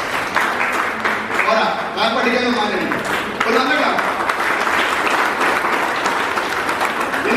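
An audience at a business seminar breaks into clapping, a strong burst of many hands that builds and continues while someone speaks over it.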